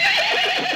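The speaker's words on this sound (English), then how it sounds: "You neigh. You are a horse." A cartoon horse neighs once, a loud, wavering whinny that stays close and clear from start to end, with nothing else heard.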